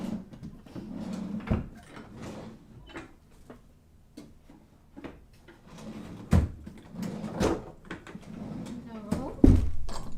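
Drawers opened and closed while rummaging for red fabric during a quilting session, giving scattered wooden knocks and sliding clunks at close range, interleaved with soft handling noise and some talk.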